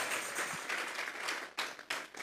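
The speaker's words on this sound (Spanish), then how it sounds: "Vamos a regalarle ofrenda de palmas al Dios de la gloria." A church congregation claps together during a Sunday service, giving applause as an offering. The clapping is dense and steady, with a few sharper individual claps standing out near the end.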